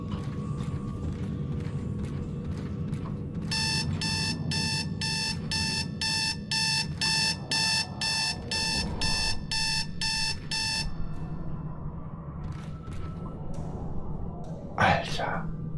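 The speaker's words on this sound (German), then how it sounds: "Also mir war klar, dass da irgendwo ein Wecker piept." Alarm clock beeping in Dead Space 2, a rapid series of evenly spaced electronic beeps lasting several seconds amid a dark, rumbling game ambience, with someone talking over it.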